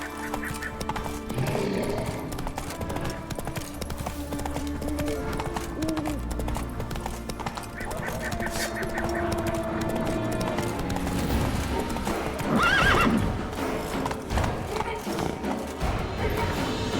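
A horse gallops with rapid, continuous hoofbeats in the fantasy video game The Witcher 3, mixed with game ambience and a neigh toward the end, loud and steady throughout.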